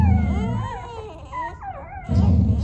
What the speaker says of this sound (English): Listen to her growl.